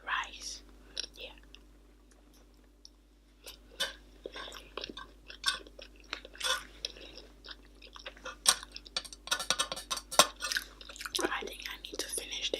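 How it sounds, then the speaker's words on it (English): Someone eating king prawn in black bean sauce with rice, with soft close-up chewing and crunchy bites in a quiet room, interspersed with faint whispering. "I'm eating king prawn in black bean sauce and rice."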